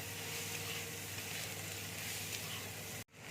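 Turmeric and coriander powder sizzle in a hot frying pan with a steady, close, crackling hiss that cuts off abruptly near the end.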